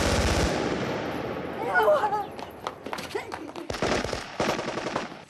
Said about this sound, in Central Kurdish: دیسان دەنگی تەقەتی